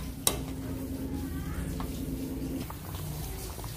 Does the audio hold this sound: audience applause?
no